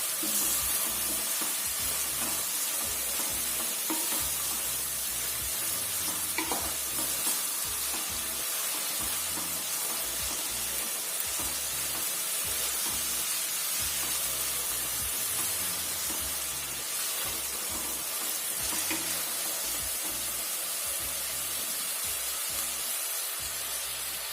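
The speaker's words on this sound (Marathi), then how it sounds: "मिडियम गॅसवरती दहा ते पंधरा मिनटं हा कांदा आपल्याला परतवून घ्यायचा व्यवस्थित" Onion frying in a pan over medium gas, a constant dense sizzle and hiss that carries on evenly throughout without any talking.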